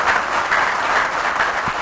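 A conference audience of provincial governors and attendees claps steadily for a governor's memo, with dense, sustained applause throughout and no speech over it.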